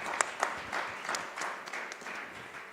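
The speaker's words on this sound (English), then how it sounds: "Another round of applause to our panelists" An audience applauds panelists at a technology week event, with a few sharp claps up front followed by scattered, moderate clapping that holds steady for a few seconds.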